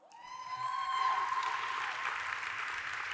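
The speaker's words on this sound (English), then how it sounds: "Let's give him a round of applause." Applause from the audience at a lightning talk session swells and holds steady as a speaker is welcomed, with a tonal whine briefly over the clapping early on.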